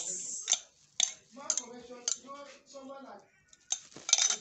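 A utensil stirs a glycerin, propylene glycol and sodium lactate mixture in a container, making close, repeated clinking and scraping strokes roughly every half second, with brief pauses between bursts.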